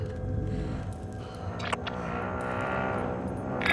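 A car pulls away and accelerates in Call of Duty: Modern Warfare, its mid-pitched engine rising steadily and staying close and fairly loud throughout, with no talk over it.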